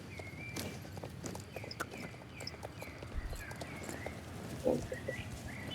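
A horse's hooves clip-clop at a walking pace in a video game, a steady, fairly faint rhythm of soft hoof falls with light ambient game sounds behind.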